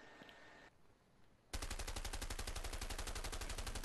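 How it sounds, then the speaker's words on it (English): Submachine gun (Uzi) in the video game A Way Out fires a long, loud, rapid automatic burst that starts abruptly after a quieter stretch of faint background tones and keeps a steady fast rhythm to the end. "It's like a Uzi. Yeah. Like a submachine gun."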